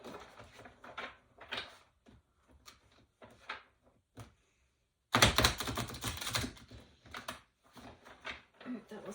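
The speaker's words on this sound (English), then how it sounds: "That wasn't a great shuffle, but it's okay" A deck of tarot cards is shuffled in short papery riffling bursts, with one louder, longer burst of rustling in the middle and quieter card taps and handling around it, close up.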